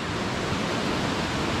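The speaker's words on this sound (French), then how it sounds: "on est tombé sur cette petite rivière, avec une super belle cascade" A waterfall on a small river in Tasmania, a dense and even roar of falling water heard close and loud, constant and unbroken throughout.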